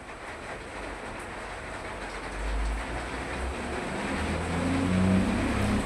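A Darjeeling Himalayan Railway diesel toy train at Rongtong station, a steady low rumble and rolling hum that swells slightly as it moves, no voices.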